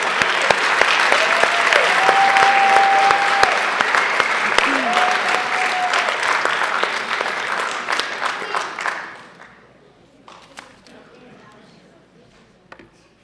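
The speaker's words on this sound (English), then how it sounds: "So let's give these guys a round of applause." Loud, dense applause from a board meeting audience runs for about nine seconds, with voices calling out over it, then fades to scattered claps and quiet room sounds.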